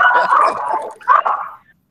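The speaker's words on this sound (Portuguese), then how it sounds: "Até os cachorros falaram tchau, né?" Dogs bark during the close of an online law class, two loud, close bursts of barking and yipping separated by a short pause, then quiet.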